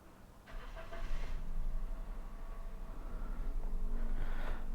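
Car engine cranked and started in a mechanic's workshop, a short crank then the engine catching and settling into a steady, close idle that grows slightly louder.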